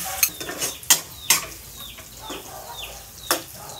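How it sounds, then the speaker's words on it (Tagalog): Beaten eggs for scrambled eggs frying in a pan, a steady soft sizzle broken by several sharp clinks and scrapes of a utensil stirring against the pan, close and without talk. "Ito na ang ating scramble egg."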